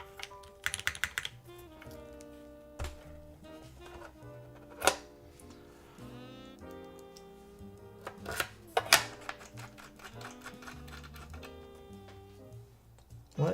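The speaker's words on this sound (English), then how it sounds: "I think this set works beautifully with this keyboard" Clacky keystrokes from a mechanical keyboard fitted with a fresh set of keycaps, typed in uneven bursts with a few sharper, louder hits, over a steady background of music.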